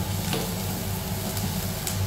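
Marinated prawns coated in masala dry roasting in a pan for Kerala prawn masala, giving a steady close sizzle and hiss with a few soft stirring scrapes and no voices.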